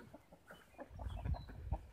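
Gamefowl chickens clucking: soft, rapid clucks and murmurs from several birds, faint and somewhat distant, with low thumps and background noise growing louder toward the end.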